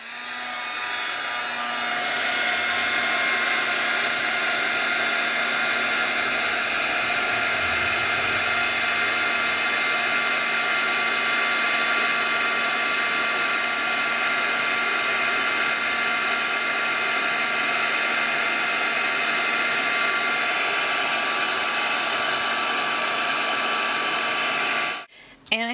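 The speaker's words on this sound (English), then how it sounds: "use my heat tool to melt the embossing powder on these snowflakes" Heat tool blowing a steady, loud airflow whir for about 25 seconds while melting embossing powder on stamped paper snowflakes, cutting off abruptly at the end.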